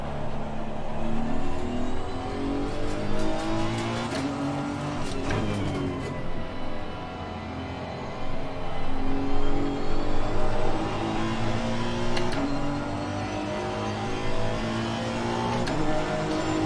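Race car engine in the sim racing game Assetto Corsa Competizione, a steady droning whine that rises and falls with revs through the whole lap section, loud and continuous with no talking.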